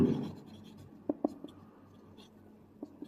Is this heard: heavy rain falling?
no